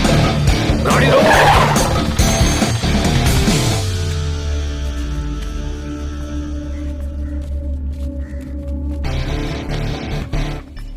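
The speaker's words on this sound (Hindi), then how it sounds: "गाड़ी रोको।" A car skids to a stop with a loud tire squeal over a roaring engine, then settles into a low idle and rumble that swells again near the end, with no talking.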